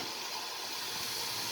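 Floured BBQ-flavored bird pieces deep frying in hot oil over high heat, giving a steady, moderately loud sizzling hiss with no talking.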